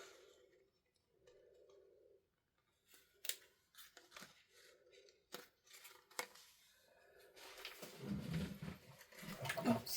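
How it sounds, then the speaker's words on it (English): Scissors cut paper during cardmaking in short, separate snipping bursts spaced a second or two apart, fairly close and clear, followed by louder rustling paper handling at the end. "just got my scissors"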